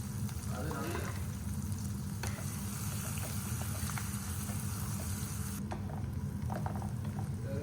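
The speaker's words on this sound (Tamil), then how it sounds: "நெக்ஸ்ட் வெங்காயத்தை போட்டுட்டு கொஞ்சம் ரொம்ப ஃப்ரை பண்ணிட வேணாம் நார்மலாக இருந்தால் போதும்" Onions frying in a pan for a Tamil carrot poriyal, a soft steady sizzle with occasional faint stirring clicks, heard close but quiet and without talking.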